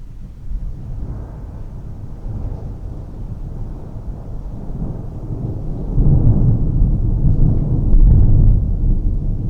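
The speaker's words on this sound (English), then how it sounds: "the best thunderstorm is going on outside at the moment" Thunderstorm rumbling outside a Land Rover 110 camper: a continuous low, heavy roar that swells louder toward the end with deep booming surges, no voices.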